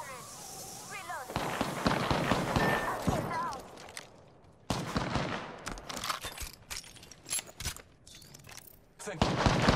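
Gunfire in the video game Apex Legends comes in sharp bursts and rapid volleys, with close, loud shots and short pauses between them, mixed with other game effects.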